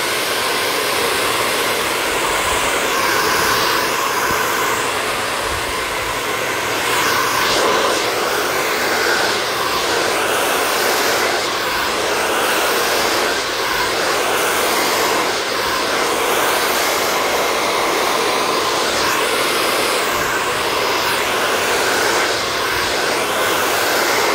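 A hair dryer blows steadily and loudly from start to finish, a constant airy roar with slight wavering.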